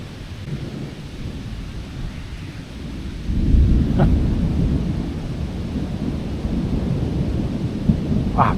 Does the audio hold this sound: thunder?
yes